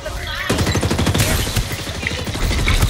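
Rapid automatic gunfire from a firefight in the battle-royale video game Farlight 84, loud and sustained bursts of shots filling the whole stretch.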